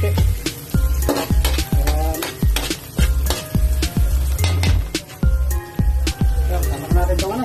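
Pan sautéing with bay leaf for bopis: a spoon scrapes and clanks against the pan in a steady, repeated rhythm over a constant sizzle, loud and close.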